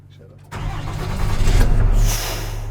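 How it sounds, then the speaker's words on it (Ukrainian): A Dodge-based Gyurza armored vehicle's engine is started by pushbutton: a brief quiet gap, then the engine catches abruptly, revs up loudly and settles into a rumbling idle close by, with someone speaking over it. "Витискаємо гальма, запускається воно кнопочкою, да, якою просто раз"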